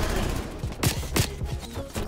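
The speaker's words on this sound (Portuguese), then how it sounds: "Levando tiro de tudo que é lado." Gunfire from a video game shooter with a MAC-10 in play: several sharp shots burst out in quick succession, close and fairly loud, with no talk over them.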